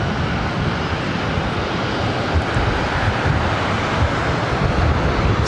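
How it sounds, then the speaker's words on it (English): A broad, steady roar of an Alaska Airlines Boeing 737-900ER on approach to land at LAX, arriving from Portland, heard close and loud as continuous engine and rushing-air noise with wind buffeting the microphone. "This is Alaska Airlines 1172 coming in from Portland on the"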